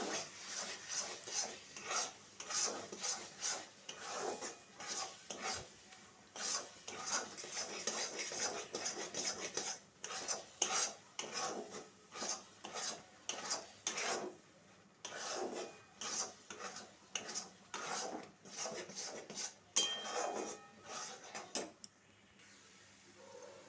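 A grated coconut and milk mixture for white coconut naru is stirred steadily in a pan, with continuous rhythmic scraping and rasping strokes close by that carry on for the whole stretch and fade at the very end.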